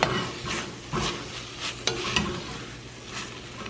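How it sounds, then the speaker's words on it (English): Ground meat and onions browning in a pan. A steady sizzle runs throughout, broken by several sharp scrapes and stirs of the utensil. There is no talking. "I'm gonna mix this in with the onions and cook it until it's browned"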